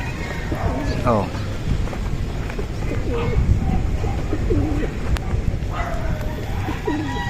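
Pet pigeons coo softly in a loft, low repeated calls rising here and there over a steady murmur of background noise, with occasional bird chatter and a voice nearby.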